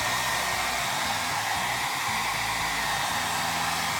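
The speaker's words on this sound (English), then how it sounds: "I'm going to go grab my hair dryer and speed up the process a little bit" A hair dryer blows warm air over acrylic paint on a painted mask prop, giving a loud, steady broadband whoosh that runs unbroken from start to finish with no voices.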